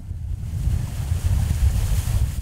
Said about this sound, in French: Voilà, il y a une rafale qui arrive.